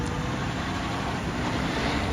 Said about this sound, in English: So Andy's using that new tractor and the new gearbox.